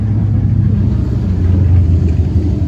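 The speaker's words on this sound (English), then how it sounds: "got some bikes coming right now" Several motorcycles passing on a rural back road, heard as a continuous low engine rumble and roar that holds steady throughout, fairly loud, with no talking.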